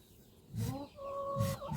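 A duck gives two short, close, grumbling calls with a brief pause between them, in an otherwise quiet setting.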